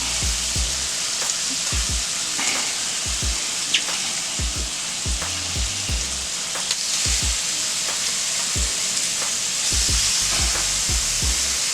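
Bacon sizzles on a Steelmadeusa griddle in a steady, loud, continuous hiss with crackling and spitting, while occasional low knocks, likely from tools or strips being laid on the metal, sound throughout.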